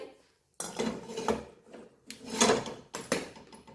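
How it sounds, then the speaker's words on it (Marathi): A kadhai (wok) is set down on a home kitchen stove, producing several sharp metallic clanks and scrapes in bursts separated by short pauses. "आता ठेवलेले आहे एक कढाई"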